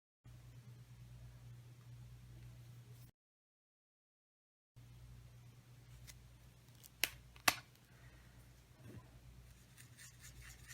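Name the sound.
scissors cutting out paper pieces for a shaker card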